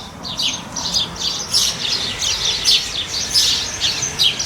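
Birds chirp repeatedly in quick bursts, bright and fairly close, over a low background rumble, with no talking.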